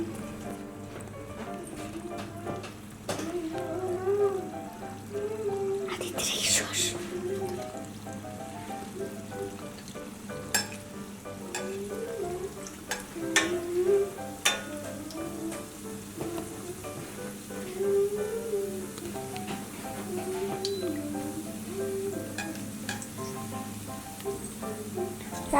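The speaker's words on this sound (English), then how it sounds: "fry them in medium flame" Eggless dough donuts frying in oil over a medium flame, a steady bubbling sizzle with crackling pops and occasional clinks of a utensil, continuous and fairly close.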